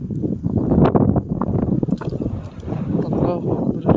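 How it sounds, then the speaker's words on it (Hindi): Strong wind buffets the microphone on a hilltop in gusty, uneven rushes, loud and close, while someone talks excitedly over it. "जितनी तेज़ हवा चल रही है"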